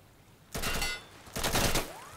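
Two short bursts of rapid gunfire in a competitive video game match between Synergy and White Walkers, a World Cup elimination, each about three-quarters of a second long with a brief gap between them, loud and close with no talk over them.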